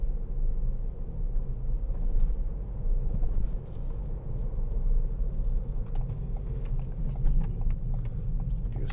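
A 2016 Ford B-Max with a 1.0-litre EcoBoost petrol engine cruising along a busy dual carriageway, giving a steady low road rumble and engine drone heard from inside the cabin, with no talk.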